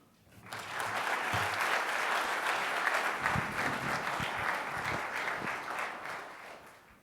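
Audience applause fills the room welcoming guest David Booth, CEO of Dimensional Fund Advisors, and a dean at a distinguished speaker series event; steady, dense clapping rises quickly and holds for several seconds before easing slightly.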